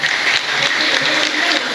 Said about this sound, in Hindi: तो ज़रा आप लोग भी थोड़ा सा तालियां बजाएं